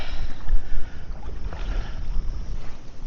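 Steady wind gusting around a fisherman walking the shallows by weed beds, a broad low rumble of buffeting with a softer airy hiss above, loudest early then easing slightly, with no voices.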